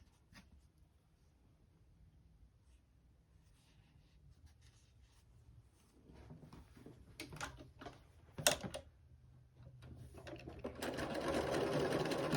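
A sewing machine runs in short, close bursts of rapid mechanical stitching while sewing a seam for a fabric pencil holder, then speeds into a steady, louder whirring run.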